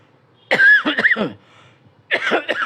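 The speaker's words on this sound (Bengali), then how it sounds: "কী জানি কষাইতেছে, কাশি উঠে গেছে" A woman coughs from cooking fumes in two separate bursts of harsh, throaty hacking, heard close and loud with quiet between them.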